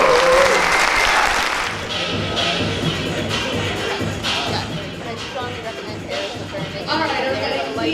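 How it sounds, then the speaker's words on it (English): A large audience applauds at a live arts event honoring performers, loud dense clapping that swells at the start, then continues steadily with scattered crowd noise and a few voices mixed in. "we're going to give you a big round of applause"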